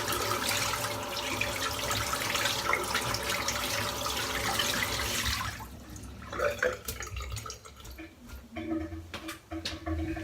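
Water runs from a tap and is spritzed through a shaving brush to rinse it, a steady hiss for about five seconds, then dripping, splashes and light handling noises close by.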